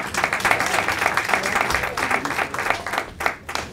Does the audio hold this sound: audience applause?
yes